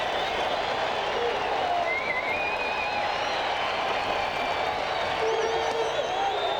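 A baseball stadium crowd on its feet at an Oakland Athletics home game against the Rangers in 1993, a broad roaring cheer with scattered whoops and clapping sustained throughout under a broadcast commentator's voice.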